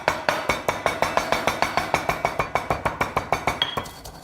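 Spices are bashed with a pestle in a mortar: about twenty sharp, evenly spaced clinking strikes, loud and close, in a steady rhythm before a brief fade.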